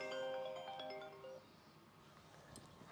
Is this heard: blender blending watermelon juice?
no